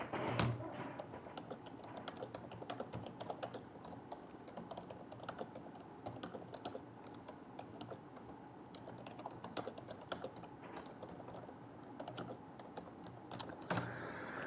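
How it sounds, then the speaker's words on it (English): Steady, rapid typing on a computer keyboard, with continuous close clacking keystrokes and occasional louder key hits running throughout, heard without speech. "Don't mind me, I'm typing in Tor's chat."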